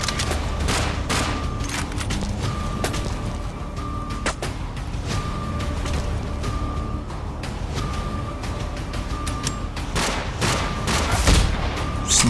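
Shotgun and other gunfire from an MMD animation rattles in rapid bursts and single sharp blasts over a low rumble, with ringing metallic tones and a heavy thud near the end.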